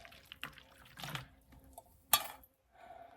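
Water is scooped from a trailside cistern on the Pacific Crest Trail and poured out in a few separate splashy bursts, with short gurgles, a sharp near splash and brief pauses between pours.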